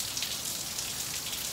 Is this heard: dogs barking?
no